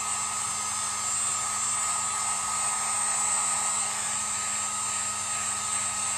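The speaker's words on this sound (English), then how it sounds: "Somebody said you could take your heat gun to the glue string." A heat gun blows with a steady, even roar while melting away glue strings on a handmade craft lighthouse, the high whooshing hum unbroken throughout with no talking.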